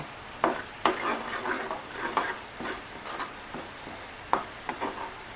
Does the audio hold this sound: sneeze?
no